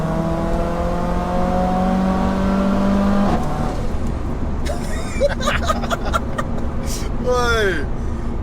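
A 630bhp big-turbo Mercedes A45 AMG with a screamer pipe drones loudly at steady revs, then backs off with crackles and sharp rising whoosh bursts, while people talk and laugh nearby.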